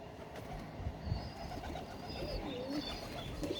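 Soft, low pigeon coos repeat a few times at a rooftop pigeon loft against a steady background hum, fairly close and not loud.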